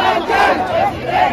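Crowd of residents gathered around a jogging politician in Jakarta, a loud, close mass of overlapping shouting and cheering voices rising and falling in waves.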